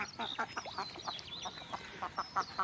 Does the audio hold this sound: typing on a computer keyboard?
no